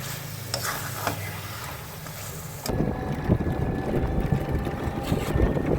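Goat meat sautéing in a pan, a loud sizzle and stirring scrape that steps up sharply partway through, continuous and close with no talk.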